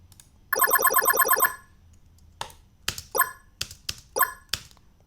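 A UI approval sound built in Steinberg Prologue in Cubase and pitch-shifted upward: a bright, rapid warbling chime burst, then several short, sharp tonal blips in quick succession, crisp and close.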